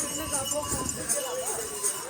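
Horse hooves clip-clop along a busy pilgrimage path to the Vaishnodevi temple near Katra, Jammu, several quick steps heard amid talking voices and crowd noise.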